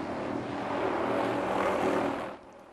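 A firefighting helicopter flies overhead carrying water to wildfires smouldering in Hawaii, its steady rotor and engine roar holding loud for about two seconds before dropping away.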